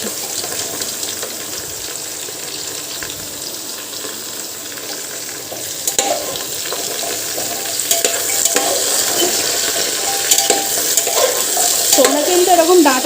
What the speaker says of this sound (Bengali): সবজিগুলো একটুখানি ভাজবো তো এবার আমি আগে থেকে দিয়ে দিচ্ছি